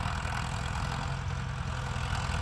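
A tractor engine runs at a steady idle before pulling a trolley out, a continuous low rumble that holds at the same level throughout with no voices.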